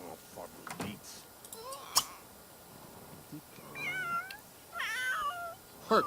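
A cat in The Sims 3 meows several times in short, rising and falling calls, alongside soft clicks and faint background sounds.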